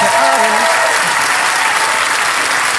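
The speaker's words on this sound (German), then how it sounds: "Und das ist ihr Applaus." Steady, loud applause from a German TV studio audience on Neo Magazin Royale fills the clip, with a brief voice rising over the clapping at the start.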